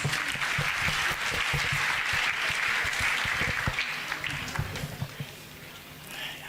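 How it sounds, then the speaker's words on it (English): A church congregation claps together in a steady, moderately distant burst of applause that gradually thins out toward the end. "Clap for Jesus."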